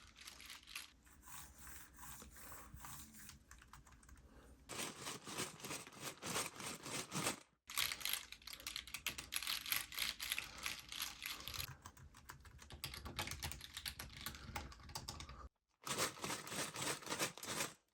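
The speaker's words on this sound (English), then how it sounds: "the keyboard itself is kind of clicky when you type with the buttons" Typing on a thin foldable keyboard for an iPad Mini, rapid clicky keystrokes in close, continuous bursts separated by two brief silent breaks.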